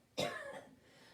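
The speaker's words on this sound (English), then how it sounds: "please pardon my cough" A single sharp cough from a reader during a storytime reading of Dr. Seuss's The Lorax. It is close and fairly loud, with a quick burst that fades out in about half a second.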